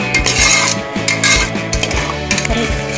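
Raw mango pachadi with sugar is stirred in a metal pot: a spoon scrapes and clinks against the sides in quick, loud, irregular strokes, close up, with no voices.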